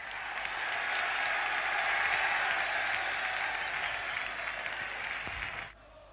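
A 40,000-strong football crowd at a blustery Ninian Park for Wales v England, a broad continuous roar that swells and holds at a steady loud level before cutting off abruptly near the end.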